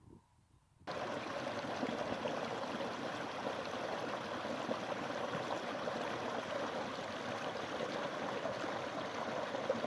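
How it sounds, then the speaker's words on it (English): A small waterfall on a Dartmoor stream, a steady broadband rush of falling water that starts abruptly after a brief quiet moment and holds loud and close throughout, with no talk. "Nice little waterfall there."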